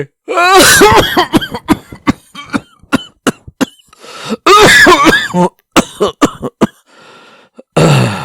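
A man coughs repeatedly and clears his throat in harsh, close bursts, with raspy voiced hacks and short pauses between fits, ending in a final rough cough.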